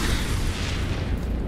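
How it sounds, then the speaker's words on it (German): A dense, sustained rumbling blast from an enemy exploding in the video game Lords of the Fallen, loud and steady throughout with a harsh crackling top. "Und der wird auch explodieren."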